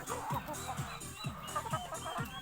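Several chickens cluck repeatedly nearby, overlapping low calls in a busy, rhythmic chorus with some background noise.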